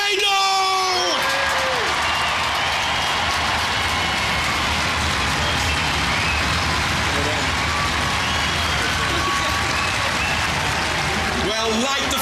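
A studio crowd at a Robot Wars European Championship applauds and cheers for the winning robot Tornado, a loud continuous wash of clapping and whoops with a presenter's voice heard briefly over it.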